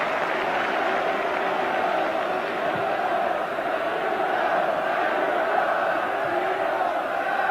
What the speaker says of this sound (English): Applause from Jerry Ryan and for Jerry Ryan